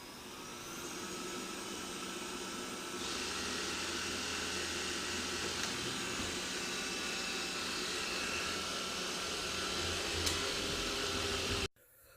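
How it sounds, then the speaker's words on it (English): A steady, whirring motor hum with a broad hiss rises in intensity after a few seconds, runs evenly, then cuts off abruptly at the end. "I'm going to select a certain area and have the robot clean twice. Starting zoned cleaning."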